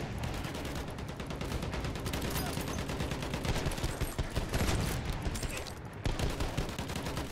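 Gunfire in a shooter video game runs without a break as a dense, loud, rapid fusillade of overlapping shots, with a brief dip near the end before it resumes.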